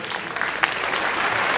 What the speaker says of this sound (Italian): un saluto e un applauso a Maria Maugeri.